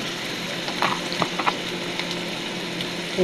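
Onion with ginger and garlic fries in a pan with a loud, even sizzle and a few soft stirring clicks, heard up close with no voices.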